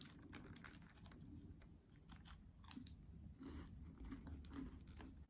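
Crisp, repeated crunching of a Morrisons Christmas cheese and herb snack being chewed close to the mic, a quick irregular series of crackly bites with no talking.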